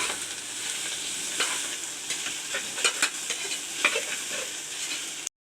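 Beetroot sautés in a pan for pulao, giving a close, steady sizzling hiss with scraping stirs and a few sharper clicks near the end before it cuts off abruptly; no one speaks.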